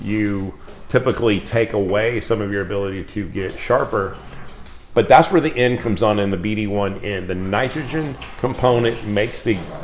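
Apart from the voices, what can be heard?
No everyday noise stands out behind the speech.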